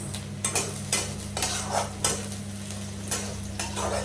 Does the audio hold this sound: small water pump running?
no